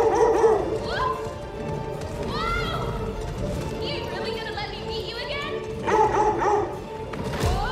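Dog barking in the video game God of War Ragnarok, several sharp barks and yips mixed with game voices and effects, mid-distance and moderately loud amid ongoing speech.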